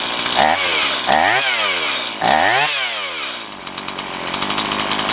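A Stihl MS170 chainsaw being tuned at the carburetor, revving sharply up and down three times with falling engine pitch, then settling into a rough, uneven idle; loud, close and alone.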